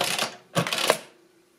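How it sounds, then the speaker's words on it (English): Mechanical clatter of a Brunsviga 90 TA adding machine as its lever is pushed down to add to the register: a short rattling burst, a pause, then a louder clunking sequence that rings briefly and fades. "if you push that down, the number you've entered gets added to the main register at the top"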